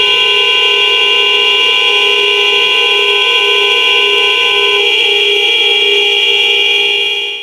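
Horns of farm vehicles honking together in a town square during an agrarian protest vote, a loud sustained chorus of overlapping blaring tones that fades slightly toward the end.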